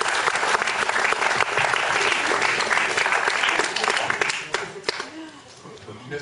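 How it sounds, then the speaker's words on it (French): Audience at a Paris conference applauding the speaker, steady dense clapping from a full room, loud and continuous, tapering slightly toward the end. "Guy Millière, que vous allez applaudir évidemment avec spontanéité"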